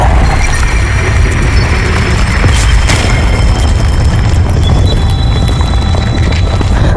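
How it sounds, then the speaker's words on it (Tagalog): An earthquake effect in a horror action audio drama rolls on as a loud, continuous low rumble with dense noisy texture and faint scattered crackles, steady for the whole stretch. "biglang nagkaroon ng malakas na lindol"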